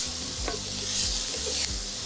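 Sliced yellow and red peppers sizzle in a hot pan for bacon dirty rice, with a steady frying hiss and a few stirring scrapes close by, and no voices.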